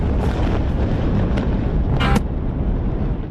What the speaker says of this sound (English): Sound from Israeli airstrikes in northern Gaza City following the attack this weekend.